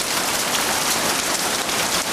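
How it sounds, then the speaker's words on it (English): Half-inch hail pouring down in a heavy storm, a dense, loud, continuous hiss of countless small impacts close by, with no voices. "That was a wicked hailstorm."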